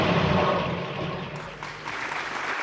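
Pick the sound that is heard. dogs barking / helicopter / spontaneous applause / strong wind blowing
spontaneous applause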